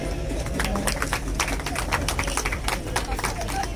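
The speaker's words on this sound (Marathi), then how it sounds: "टाळ्या वाजव" A crowd claps steadily and densely at a birthday felicitation for a former mayor as a bouquet is presented. Many overlapping hand claps fill the whole stretch at an even loudness, with a voice speaking over them.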